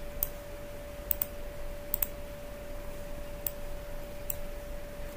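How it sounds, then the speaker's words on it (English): A computer keyboard spacebar is pressed during a facial motion capture session, giving a handful of sharp, isolated clicks over a steady electronic hum, some of them in quick pairs. "So let me hit on spacebar here."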